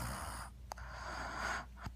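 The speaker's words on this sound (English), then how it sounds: "You hear him snoring, right?" A man snores quietly, with two short rough snorting breaths about a second apart against faint, steady room noise.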